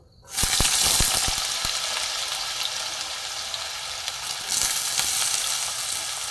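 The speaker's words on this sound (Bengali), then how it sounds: "আমি কড়া কড়ার মধ্যে সর্ষের তেল দিয়ে দিয়েছি প্রথমে আমি দেবো আলু" Potatoes dropped into hot mustard oil in a wok for vegetable rolls set off a sudden, loud, steady sizzle that stays strong and close throughout, with a brief surge near the end.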